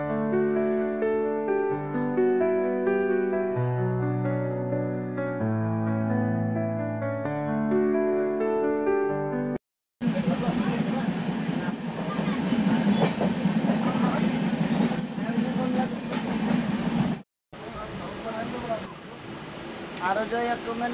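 A melodic tune plays first, then a passenger train pulling out of Burdwan station takes over with a loud, steady rumble and rhythmic clatter of wheels on track, cut by a brief gap.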